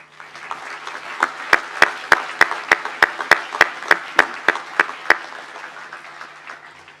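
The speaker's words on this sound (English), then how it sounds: "I want you to give a round of applause to the people who have helped you reach this important milestone" At a SIM University at Buffalo commencement ceremony, the audience claps sharply in unison at a brisk, steady beat, around fourteen loud synchronized claps over a light bed of scattered applause that thins out at the end.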